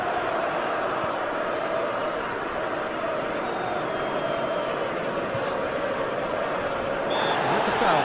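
Football stadium crowd at a Champions League semifinal between Villarreal and Liverpool, a dense, steady roar of many voices rising in reaction to a firm defensive tackle, swelling slightly toward the end, with commentary over it.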